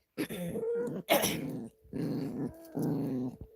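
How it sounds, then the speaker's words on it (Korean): A dog at home growls and snarls in several long, rough, close bursts separated by short pauses, loud and without any talk. "할머니한테 또 가서 짖으려고 안 돼"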